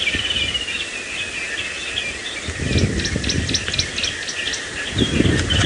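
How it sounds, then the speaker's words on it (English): Orange-breasted bushshrike, green-backed camaroptera and Natal spurfowl call from the woodland during a late-afternoon safari drive, a mix of repeated whistled and chattering notes over steady insect hum and low background rumble. "So I can hear an orange-breasted bushshrike, green-backed Cameroptera, Natal spurfowl"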